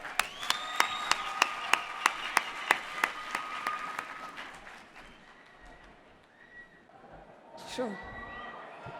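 An audience applauds as a speaker takes the stage at a Global Peace Education Day event, broad sustained clapping filling the first half, then thinning out with crowd noise and a few shouts.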